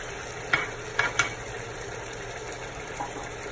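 Tomatoes drop into a pan of frying chicken, a few soft thuds and stirring clicks over a steady close sizzle.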